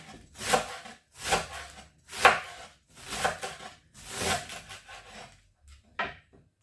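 Rhythmic crunchy slicing strokes, about six evenly spaced cuts of a knife through crisp cabbage leaves on a board, close and clear with no talking.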